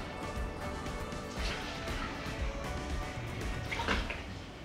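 Water sloshing inside a plastic mop bucket as it is lifted, the small amount of water tipping to one side during home cleaning; a steady, close wet swishing with brief splashy surges around the middle and near the end.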